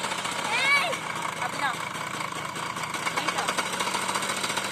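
A scooter engine runs with its throttle twisted gently, a steady mechanical drone throughout, with voices talking over it.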